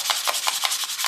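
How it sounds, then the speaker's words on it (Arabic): A Cold Steel Voyager knife blade coated in polishing compound is sanded by hand with very fine 5000-grit sandpaper, a close, steady rhythmic rasping of quick back-and-forth strokes, about five per second. "نصنفره بصنفرة 5000، وال5000 ديت يا جماعة يعني صنفرة ناعمة جدا"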